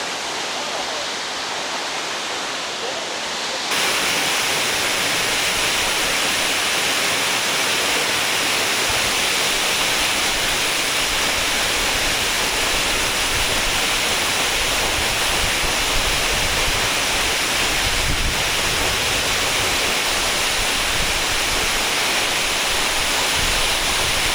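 A waterfall near Pakse, Laos, roars steadily in a broad, constant wash, close and loud after a brief quieter start.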